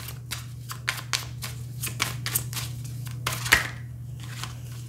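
Oracle cards being shuffled by hand: a soft, irregular run of papery riffles and flicks close by over a faint steady hum, with no talking.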